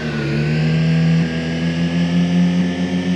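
A Skoda car engine in BeamNG.drive holds a loud, steady, high rev with a smooth droning tone and little variation across a few seconds.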